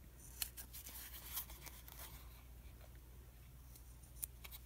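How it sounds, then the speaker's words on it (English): Scissors snipping sticker sheets into small circles for homemade peg stamps, a few faint, sharp, close clicks scattered over quiet room tone. "Or you can just cut them with your scissors and just cut any shape."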